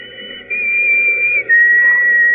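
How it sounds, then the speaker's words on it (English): A shrill whistle in an old radio drama, two long sustained blasts in a row, loud and clear with no talking over them. "Remember that whistle?"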